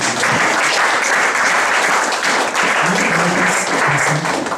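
A church congregation breaks into loud, sustained applause, a dense wash of many hands clapping close by and continuing evenly for several seconds.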